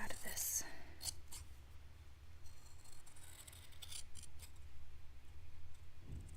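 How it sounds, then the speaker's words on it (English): Heavy-duty scissors snipping through stiff craft material for a miniature townscape cone-shaped cape, a few close crisp cuts over a steady low hum, with soft voice sounds around them. "I hate cutting things like this with these scissors"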